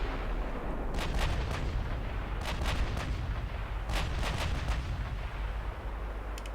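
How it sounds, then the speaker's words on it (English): Naval gunfire from cruisers exchanging fire in the Ultimate Admiral Dreadnoughts warship game, with bursts of booming shots in clusters over a constant low rumble of battle, no talking. "My cruisers is exchanging fire."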